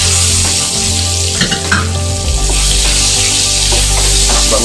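Onion frying in a pan for chopsuey, a loud, steady close sizzle with a low crackling hiss that deepens and thickens partway through, with light stirring scrapes on top.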